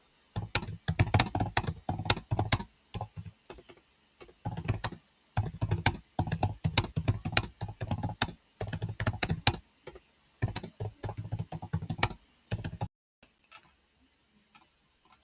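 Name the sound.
typing on a computer keyboard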